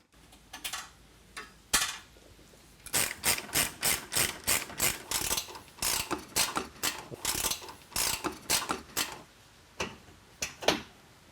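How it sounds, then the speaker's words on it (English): Socket ratchet turning out the sway bar bracket bolts on a Jeep JK axle during a suspension lift, a long run of quick, evenly spaced metallic clicks in close bursts with brief pauses, no talking. "Remove the two sway bar brackets with a 5/8 socket so you can lower that sway bar."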